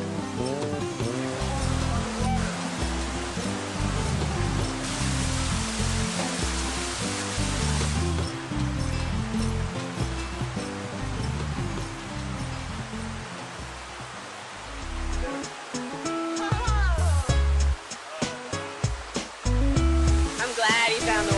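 Broad, steady rush of a waterfall tumbling into a rainforest canyon, loud and continuous with a few sharper splashes or knocks near the end.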